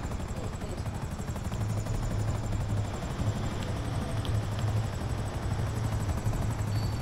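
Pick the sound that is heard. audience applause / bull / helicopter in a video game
helicopter in a video game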